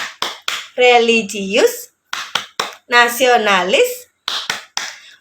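Schoolchildren in an Indonesian classroom perform the Tepuk PPK clapping chant, sharp rhythmic group claps in quick bursts alternating with loud unison chanted words, fairly close and lively.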